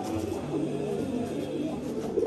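Giribaj racing pigeons coo softly and continuously in a loft, a low murmuring burble from several birds close by under a steady background hum.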